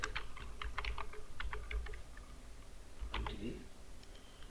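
Keys clatter in quick bursts of typing on a computer keyboard while a drop-down list is entered in a Google Docs document, with clustered clicks near and fairly loud over a steady low hum, then a pause and a final flurry.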